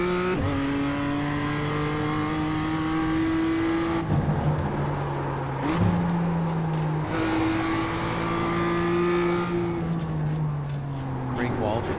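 Simulated BMW M2 race car engine in iRacing at Oschersleben, revving and shifting through gears with rising and falling pitch sweeps, loud and continuous, with a voice talking over it.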